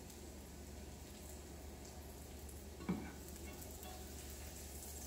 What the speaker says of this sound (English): You just kind of flip it around and you fry it quickly.